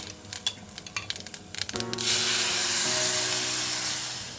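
Hog plums dropped into hot tempering oil in a pot, with a few clinks and stirring scrapes, then a sudden loud, steady sizzle and hiss that slowly fades as it goes on.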